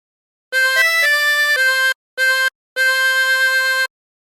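A 16-hole tremolo harmonica plays a short phrase of the hymn Be Thou My Vision: a run of bright, wavering reedy notes in several breaths separated by brief pauses, close and clear with no talking.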